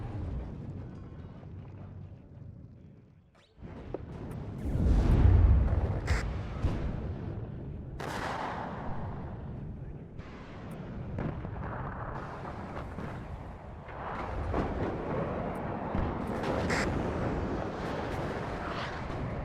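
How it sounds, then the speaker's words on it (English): Artillery shells strike an anti-aircraft gun in the real-time strategy game WARNO, with a heavy booming impact early on followed by several rumbling explosions and distant blasts that roll on throughout. "Actually, the artillery hitting the Yoda gun should finish the job here."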